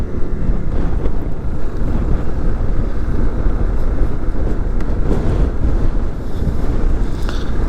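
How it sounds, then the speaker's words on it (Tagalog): Strong wind buffeting the microphone outdoors in cold weather, a loud, rough, continuous roar and rumble with no break and no talk. "sobrang hangin guys."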